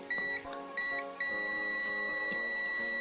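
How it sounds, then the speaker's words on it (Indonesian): A TS-202 mini clamp meter gives a steady electronic continuity buzzer tone, a bright high beep that starts and stops in short bursts before holding on continuously. "fungsi yang ini continuity buat buzzer ya, nyambung atau enggak."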